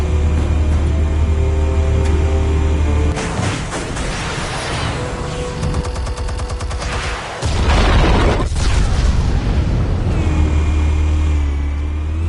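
Explosives detonate in Batman: The Telltale Series as deep, rumbling booms, with one blast and then a second heavy burst, set against a loud droning game score.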